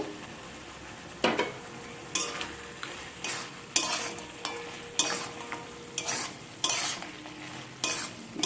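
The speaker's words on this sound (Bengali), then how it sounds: "সবকে ভালো করে আবার মিক্স করে নেব" Fried lentil dumplings (bori) stirred into cooked spinach in a pan: rhythmic spatula scrapes about once a second over a soft sizzle, close and clear with no voices.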